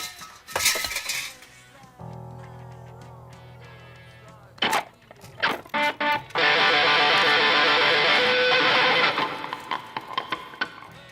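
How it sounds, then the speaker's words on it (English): Sound effect in a goth rock song, like silverware falling onto plates: loud, scattered metallic clinks and crashes over droning tones and a sustained noisy wash, with no voices. "a sound effect that looks like silverware falling on plates"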